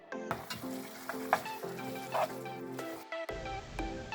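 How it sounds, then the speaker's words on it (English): Japchae glass noodles stirred through boiling sauce in a pan, with a steady close sizzle and repeated scraping stir strokes, ending in a brief quieter bubbling. "Stir the noodles so they get caught with the sauce."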